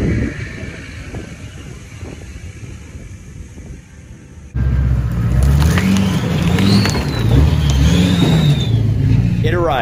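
A diesel pickup truck with a Cummins engine revs up loudly and close by after a quieter stretch, its deep roar rising and falling with wind noise and some voices mixed in.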